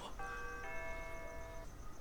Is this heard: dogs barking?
no